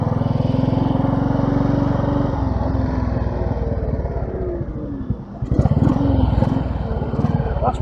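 A Royal Enfield Bullet 500 motorcycle with a sidecar, heard while being ridden: a loud, steady single-cylinder thump runs close throughout, dips briefly past the midpoint, then picks back up with a rougher revving surge.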